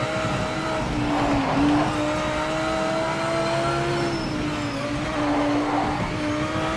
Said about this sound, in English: Don't like that tyre noise.